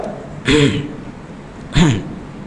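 Two short, throaty throat-clearing bursts about a second apart, fairly close and loud, with quiet room tone between them.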